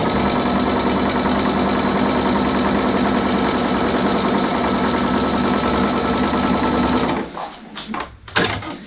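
Sewing machine stitching quilt sashing with heat-and-bond fusible, a loud steady rapid mechanical chatter running for about seven seconds before it stops and gives way to a few soft handling noises.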